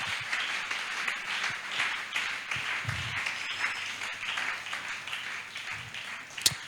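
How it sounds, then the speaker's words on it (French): A church congregation at a ministry seminar claps and applauds for the word of God, with sustained dense applause filling a large room and a few sharper claps standing out. "Acclamez pour la parole de Dieu."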